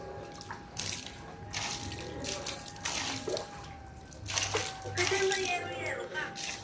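Water sloshes and surges steadily in a church baptistry shaken by an earthquake in Mindanao, a continuous washing rush with voices talking over it throughout.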